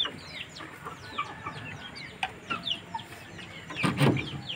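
Aseel and Burmese chickens cluck and chirp nearby on a farm in Cianjur, West Java, with scattered short calls and a louder burst of flapping and squawking near the end.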